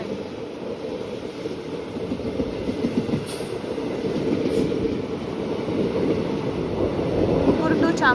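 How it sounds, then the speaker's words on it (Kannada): Tumakuru–Chamarajanagar passenger train crosses while riding aboard the Mysuru–Kacheguda express, its wheels giving a continuous rumbling clatter that grows slightly louder over the stretch, with faint squeaks near the end. "ಸ್ಟಾಪ್ ಇಲ್ಲ ಅಂದರೂ ಕೂಡ ಕ್ರಾಸಿಂಗ್ ಆಗ್ತಿದೆ ಈ ಟ್ರೈನ್"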